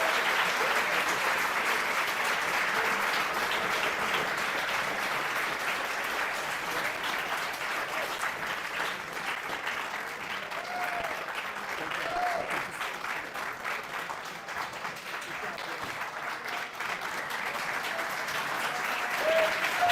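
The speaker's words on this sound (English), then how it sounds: "Let's give them a round of applause." Sustained audience applause at an evening assembly following a military tribute with an honor guard, steady clapping from a large crowd filling the whole stretch at an even level.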